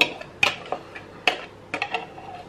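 A utensil stirs a beaten egg and oil mixture in a bowl, giving a few close, scattered clinks and light scrapes against the dish.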